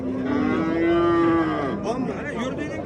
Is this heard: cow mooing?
yes